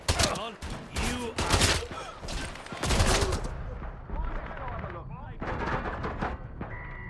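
An SMG fires in the video game Atomfall in dense, rapid bursts close up, with gaps between volleys and a lighter spell of shots near the end. A voice talks over the gunfire.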